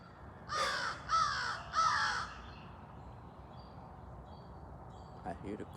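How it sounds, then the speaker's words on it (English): Three loud, harsh crow or raven caws in quick succession, then only a low background hum with a faint call near the end. "I hear the crows"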